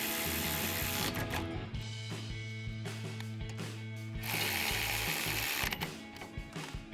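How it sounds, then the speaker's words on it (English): Ratchet with a 14mm socket tightening brake bolts on a 2019-2024 Sierra 1500 truck, rapid close clicking pawl bursts in several runs with short pauses, no talking. "Then we'll tighten these back down with our 14mm socket on our ratchet."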